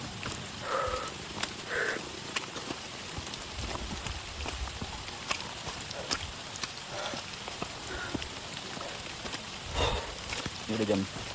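Light drizzle falling in a misty mountain forest on Gunung Halimun, a soft steady hiss of rain on leaves with occasional drips and rustles, heard close throughout without speech.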